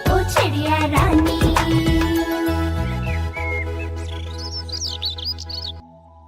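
A sparrow chirping, quick, high, bright tweets coming in a loose cluster in the later part of the stretch, after and over sustained musical tones that fade out near the end.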